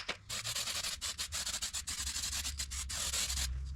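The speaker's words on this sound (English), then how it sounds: "using quite a coarse grit paper and a block" Coarse grit sandpaper on a block rasping across body filler on a 1967 VW Beetle, in steady rapid back-and-forth strokes close by, with no talking.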